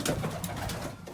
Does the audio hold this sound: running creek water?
no